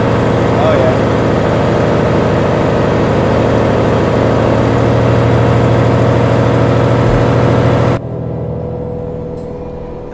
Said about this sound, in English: I just had to hear that engine.